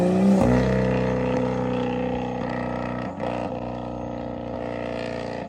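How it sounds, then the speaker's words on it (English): A BMW N55 engine with an MHD tune and overrun brap set to long rumbles loudly through its exhaust, a deep droning tone with repeated crackling pops and a sharp burst partway through as the revs fall. "when I set the Overrun Brap to long on this N55"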